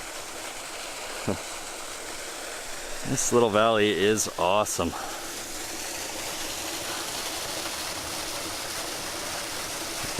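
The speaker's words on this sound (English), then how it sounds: "take a quick little look at this waterfall because it looks very pretty" A small waterfall and stream in Bluerock Wildland give a steady broadband rush that runs close and even through the whole stretch, with someone briefly talking over it partway through.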